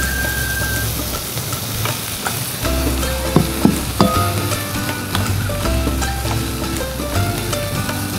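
Spices temper in a hot frying pan, giving a strong, continuous sizzle. Scraping and clinking from stirring cut through it several times.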